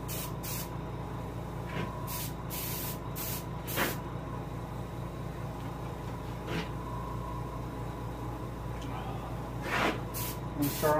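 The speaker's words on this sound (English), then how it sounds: "Go ahead and adjust my airbrush for high volume" An airbrush set for high-volume output sprays paint onto a largemouth bass for taxidermy, a steady close hiss running throughout with brief louder bursts and small clicks.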